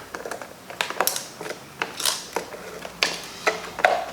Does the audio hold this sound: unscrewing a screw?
yes